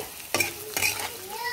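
Chicken pieces mixed with green chili stir-fried in a pan for spicy chicken pickle: two sharp scrapes of a spatula over a steady, close sizzle.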